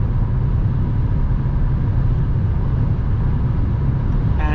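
Steady low road and wind roar inside a 2021 Hyundai i20 1.0 T-GDi DCT cruising at 130 km/h near 2,700 rpm, a constant dense rumble with no talking.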